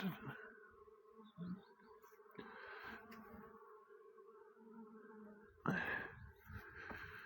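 Honeybees buzz faintly around a hive, with a steady low hum and occasional louder passes of single bees flying close by.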